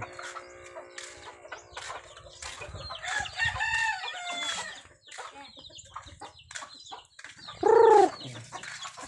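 Chickens cluck and murmur nearby in a busy farmyard chorus, including a brooding hen, with a rooster crowing loudly near the end.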